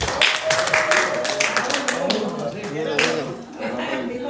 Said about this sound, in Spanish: Damos un aplauso al conferencista.